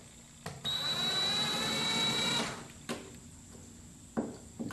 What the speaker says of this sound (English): This bit is so small for drilling in steel.